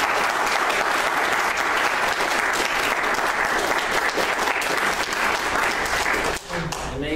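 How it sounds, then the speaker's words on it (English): Full audience applause in a church or ministry gathering, a loud, continuous roar of clapping that holds steady before dipping briefly near the end. "Let's give a round of applause"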